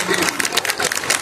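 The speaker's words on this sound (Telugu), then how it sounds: "ఒకసారి గట్టిగా క్లాప్స్ ఆర్జే యోగితకి." Brief burst of audience clapping for radio host RJ Yogitha at a Diwali entertainment event, dense and continuous across the short moment.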